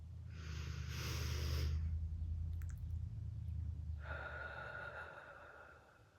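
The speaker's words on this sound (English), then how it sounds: "So let's do the cleansing breath together." A deep cleansing breath: a slow, audible inhale followed by a long, soft exhale through the mouth, close and quiet, with no talking.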